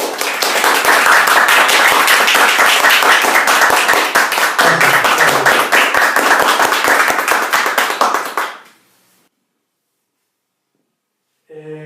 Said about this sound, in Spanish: vamos a pedir un fuerte aplauso para nuestro protagonista de esta noche, don Arnoldo Tauler.